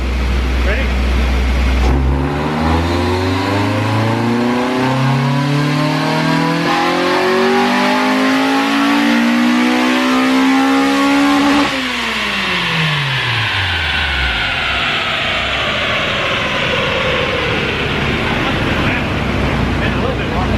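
A 2001 Honda Integra GSR engine winds up through a full dyno pull, its note climbing steadily and loudly for about ten seconds before the throttle closes and the revs fall away into a fading decel whine.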